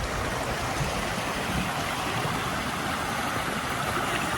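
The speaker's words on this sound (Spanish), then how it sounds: "un río." A river flows under a bridge among rice fields in Bali with a steady, dense rush of water that stays constant and fairly loud throughout.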